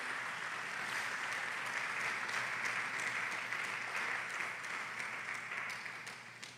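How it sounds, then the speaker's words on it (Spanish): A church congregation applauds during a sermon, sustained dense clapping at a moderate, fairly distant level, fading a little near the end. "Podemos darle un aplauso al Señor por la obra maravillosa en Jesucristo."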